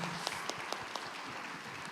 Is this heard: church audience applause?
yes